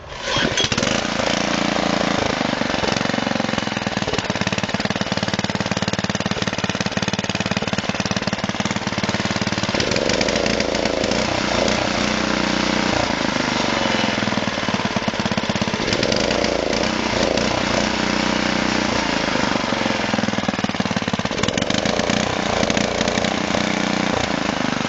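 A customer's rototiller engine runs steadily after repair, a loud, close, continuous chugging drone that holds its pace throughout with slight surges, no one talking over it.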